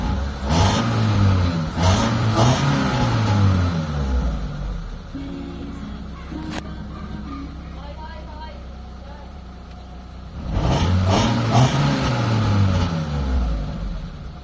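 A Mitsubishi Lancer GSR engine runs with a misfire, its idle loping in a steady uneven rhythm that rises and falls, heard close up with someone talking over it.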